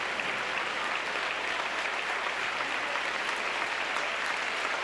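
Sustained, steady applause from a crowd in a high school boys' basketball gym as it rises for a standing ovation, dense clapping holding at a constant level throughout with no talk over it.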